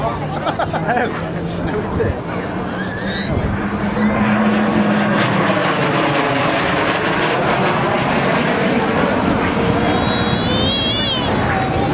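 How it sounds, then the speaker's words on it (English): A 1956 Royal Air Force Mark F4 jet flying at the 2011 Southport Airshow, with a loud continuous engine roar and a shifting whine, as an announcer talks over it throughout. "This aircraft originally built for the Royal Air Force as a Mark F4 X-ray Foxtrot 947 back in 1956."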